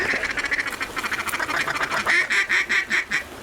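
Ducks on a small flowing stream during a river hunt, quacking in a rapid, steady run of loud calls that builds and grows more emphatic toward the end.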